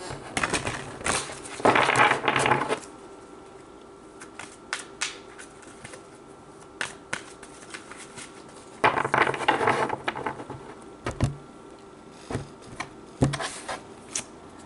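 Indigo Angel oracle cards being handled and pulled from the deck: soft shuffling bursts and scattered light taps and flicks of card stock, close and quiet, with no talking.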